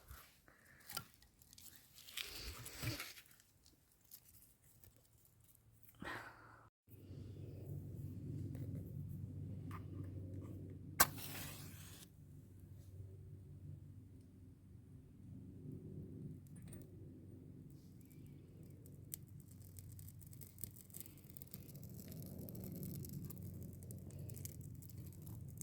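Small dry pieces of wood are scraped off for fire starting on a hiking trail, heard as a few short, faint rasping bursts over a low, steady background rumble.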